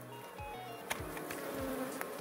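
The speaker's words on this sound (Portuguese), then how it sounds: "Eu nem imaginava que essa abelha tava forte desse tanto." Honey bees swarm around a strong hive during the fitting of a first honey super, a dense, close, continuous buzzing with individual bees droning past.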